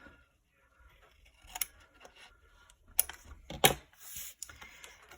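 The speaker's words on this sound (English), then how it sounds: "we're going to go ahead and miter these corners. So let's cut those off." Scissors snipping off mitered corners of scored paper, a few crisp close cuts spread unevenly over several seconds among soft paper rustles, with no voices.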